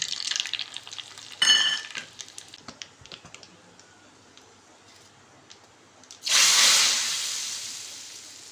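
Red chili pieces drop into hot oil tempered with mustard seeds and cumin. Crackling pops and small taps come first, then a loud, close hiss bursts up near the end and slowly fades, with no talking.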